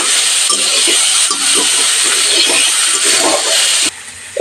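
Sliced bitter gourd and vegetables fry loudly in a pan, a bright continuous hiss and sizzle close by, with soft scraping as they are stirred, easing briefly near the end.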